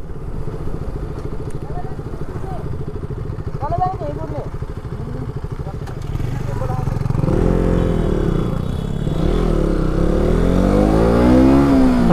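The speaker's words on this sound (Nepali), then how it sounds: "अनि अहिले चाहिँ मैले मेरो साथीको बाइक चलाइरहेको छु एकछिनको लागि होइन." A Benelli motorcycle with its exhaust fallen off cruises along the Parsyang highway near Pokhara, a loud close engine drone that grows louder as it accelerates, with a rider talking over it.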